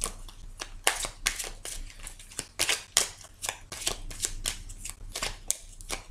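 Tarot cards riffled and slapped down in quick, crisp bursts, close and fairly loud, with a steady low hum underneath and no talking.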